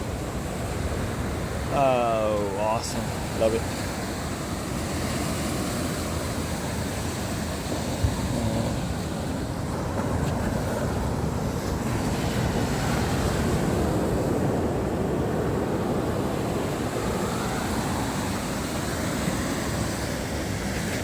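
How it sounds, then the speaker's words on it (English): Ocean waves roll in on a rocky California beach, a broad continuous wash of surf mixed with wind buffeting the microphone. A person speaks briefly and excitedly near the start. "Look at the ocean slowly coming in."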